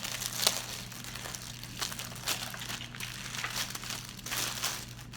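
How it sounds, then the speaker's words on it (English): Plastic wrapping crinkles and rustles as it is peeled off a flat leather valet tray, close and fairly loud, in several uneven bursts of crackling with no talking. "once I get this plastic off"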